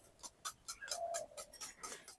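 Eggs with a pinch of salt are beaten in a bowl, a quick, quiet run of rhythmic clicking taps as the utensil strikes the bowl about every quarter second.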